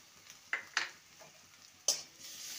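Onion, ginger, garlic and green chili paste being stir-fried in a pan, with a soft sizzle and three sharp spatula scrapes and clinks against the metal, fairly quiet and without talk.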